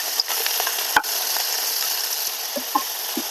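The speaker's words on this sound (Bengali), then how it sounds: "চিচিঙ্গা দিয়ে দেবো লবণটা দিয়ে একটু ভালো করে ভেজে নেবো" Snake gourd fries with cumin, bay leaf and salt in a pan, giving a loud, steady sizzle throughout, broken by a few scraping stirs and the clinks of a utensil.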